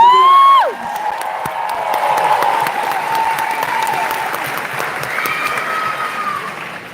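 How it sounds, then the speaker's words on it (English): A crowd bursts into a loud, sustained round of applause for the top 10 students at a graduation-style ceremony, the clapping steady and dense for several seconds after a brief tone at the start. "A loud round of applause for these top 10 students."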